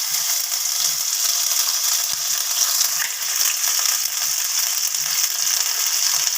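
Bay leaves and ginger fry in hot ghee, a continuous bright sizzle with faint stirring clicks and a sharp tap near the middle, close and fairly loud, no talking.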